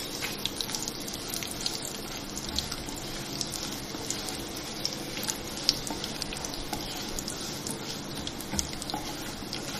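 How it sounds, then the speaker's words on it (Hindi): Pistachios and almonds, about a tablespoon, fry lightly in hot fat for a Shahi Tukray dessert, giving a steady close sizzle with fine crackling pops throughout. "ये पिस्ते बादाम जो है 1 टेबल स्पून भर के है, ये डाल रही हूँ। हल्का सा ये फ्राई करेंगे।"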